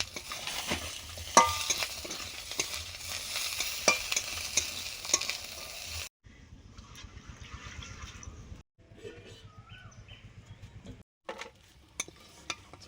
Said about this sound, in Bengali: মশলাদার চিতি কাঁকড়া ভাজা